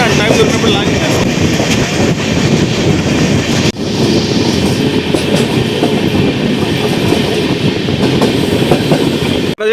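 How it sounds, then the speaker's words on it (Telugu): The Andaman Express rolls slowly along the rails, a loud, close rumble of wagons with rhythmic clickety-clack from the wheels and brief squeals, steady throughout with a short dip near the middle. "సో ట్రైన్ అయితే స్లోగా వెళ్తుంది, డిపెండ్స్ అపాన్ ద సిచ్యువేషన్."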